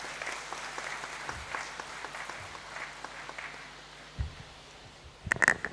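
Audience applause fills a university congregation ceremony in a great hall, a steady spread of distant clapping held at low level, ending in a few louder close handclaps.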